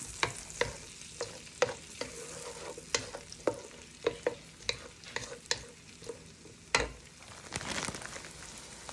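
Onions and minced garlic sauté in a pan with a steady oily sizzle, while frequent scraping stirs and clacks of a utensil come through close and clear, with no talking.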